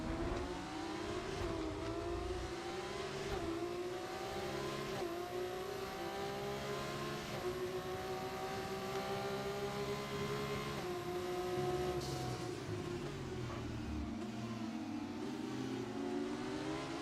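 Racing car engine in a Formula 2 style video game round at Austria, a steady sustained high-pitched drone with shifting pitch sweeps as the car revs and changes gear, loud and continuous throughout with no talk.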